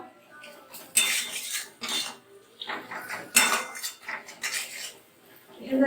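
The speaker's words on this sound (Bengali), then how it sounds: "পেঁয়াজের সাথে সব মশলা মশলাটা মিশিয়ে নেব" A spatula scraping and clanking against a pan while onions are mixed with spices for chicken kasha: irregular close metallic scrapes and knocks in bursts, no talking.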